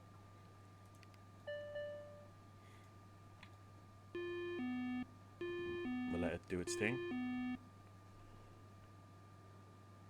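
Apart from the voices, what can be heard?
aircraft cockpit system test beeps in X-Plane 12 video game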